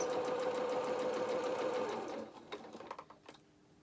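A sewing machine stitches doll-making fabric with a fast, even whir close by, then slows and stops, leaving a few faint clicks and taps as the work is handled.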